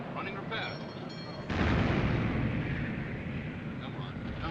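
Naval gunfire from ship turrets during a sea battle: a heavy, booming blast hits partway through and its rumble lingers over the rest, after brief radio-like chatter and tones at the start.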